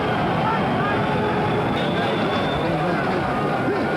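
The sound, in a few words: boxing crowd chanting a fighter's name, Bugner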